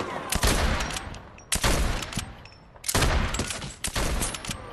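Sniper rifle fire in a video game, several loud sharp bursts with ringing tails separated by short pauses, close and prominent.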